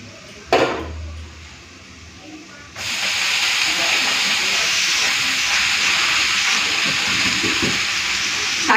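Chopped amaranth greens hit hot oil already holding crushed garlic and dried red chilli, setting off a sudden loud, steady hiss and sizzle that runs unbroken after a brief clatter.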